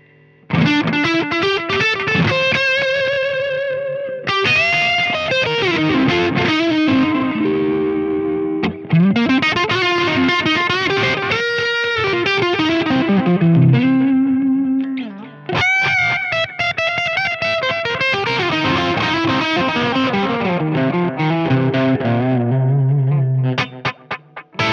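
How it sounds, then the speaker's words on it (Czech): An electric guitar runs through a TC Electronic Alter Ego X4 pedal's enhanced Echoplex simulation, with a distorted tone. Loud phrases bend and sustain, and repeating echo tails trail over about 25 seconds of continuous playing with no talking. "vylepšenou simulaci klasického echoplexu"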